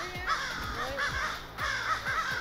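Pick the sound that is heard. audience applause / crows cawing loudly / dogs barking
crows cawing loudly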